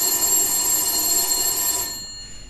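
A telephone rings on stage during a school theatre performance, one sustained bright electric ring lasting about two seconds before it cuts off.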